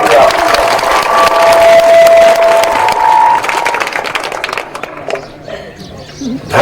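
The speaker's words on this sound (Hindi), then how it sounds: "जोर से ताली बजा के स्वागत कीजिए आप" Crowd at a campaign rally for Hema Malini applauding and cheering, loud sustained clapping and shouts that thin out toward the end, with voices over it.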